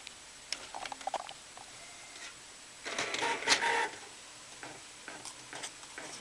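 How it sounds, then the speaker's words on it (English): An Epson 1390 printer loading roll paper gives off irregular clicks and mechanical ticks, then about a second of louder whirring feed noise in the middle, with more scattered clicks after. Nobody speaks. "Now loading and start printing."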